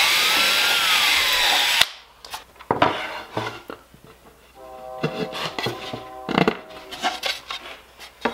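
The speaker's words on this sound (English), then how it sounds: "I'm going to countersink the head so that it fits just a little bit underneath the surface" A power drill bores and countersinks a hole in plywood for a router table circle jig, a loud burst of drilling followed by clattering knocks and scraping handling sounds.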